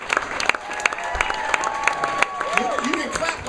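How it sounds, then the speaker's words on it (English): A theater audience at a live storytelling show gives scattered, soft clapping for a stage performer, with individual claps audible as sharp taps over a murmuring crowd and faint voices. "You can clap like that now"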